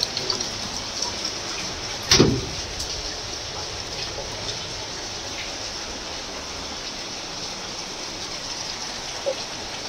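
Heavy rain pours in a steady, dense hiss that keeps up without a break, with one brief thump partway through and no voices.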